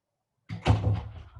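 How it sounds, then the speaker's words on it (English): A room door swings shut after a moment of silence, ending in one muffled thunk and a short fading rattle, close by with no talking. "I'm going to close my door"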